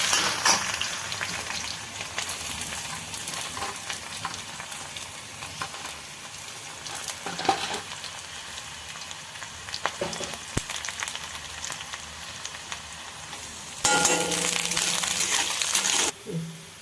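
Steady crackling sizzle of chopped ingredients frying in hot oil in a pan while making coriander thokku, constant and close, with occasional clinks and a louder burst of spitting near the end.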